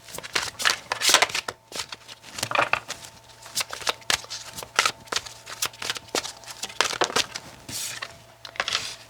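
Tarot cards being shuffled by hand, a steady run of close, crisp riffling and flicking bursts with short pauses between them, alone without talk.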